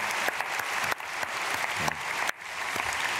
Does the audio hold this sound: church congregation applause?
yes